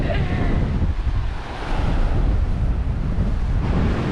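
Strong gusts of 20 to 30 mph batter the microphone at a Key West beach, with roaring ocean surf from six-foot swells forming a loud, continuous wash of noise.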